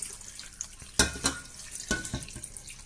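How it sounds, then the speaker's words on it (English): Water poured into a soup pot of carrots and potatoes on a stove, a low splashing and gurgling with a few sharper splashes, close by and without talk. "Well, I'm going to add the water."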